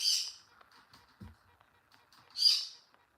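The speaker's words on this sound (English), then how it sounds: "my bird is psycho" A pet bird squawking indoors, two loud harsh shrieks at the start and near the end separated by quieter chirps and faint background noise.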